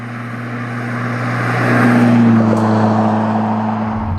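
A Ferrari drives past on the road, its engine note swelling as it nears, peaking in the middle, then fading as it moves away.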